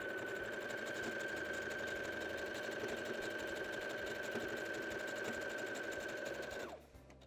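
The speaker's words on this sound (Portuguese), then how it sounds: "Costura bem em cima da parte da renda e aqui já finalizo." A sewing machine stitches over lace in one fast, continuous run with a steady mechanical whir and rapid needle chatter, close and alone, stopping abruptly at the end.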